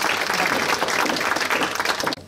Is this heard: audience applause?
yes